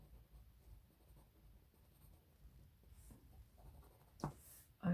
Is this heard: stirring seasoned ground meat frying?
no